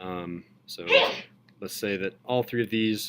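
A single sharp sneeze bursts out between stretches of a teacher's classroom talk, fairly close and loud, with speech resuming right after.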